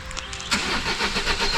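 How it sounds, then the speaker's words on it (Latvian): A car engine cranks briefly and catches, then settles into a loud, steady idle close by, with no voices over it. "jā, mašīna jau iedarbinājās, ir laiks braukt uz mājām"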